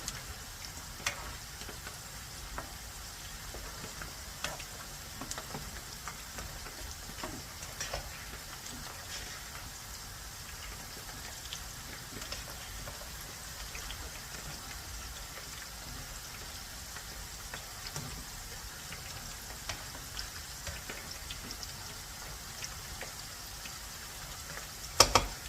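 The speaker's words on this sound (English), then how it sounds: "Now we will stir it slowly. The French rice is almost done." French rice simmering in a pot, a steady soft sizzle and bubbling with scattered faint ticks and scrapes as it is slowly stirred, no talking.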